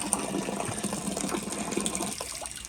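Water runs steadily at a village fountain in Courmayeur, a continuous splashing gush heard at moderate distance, with faint outdoor ambience and the flow easing slightly near the end.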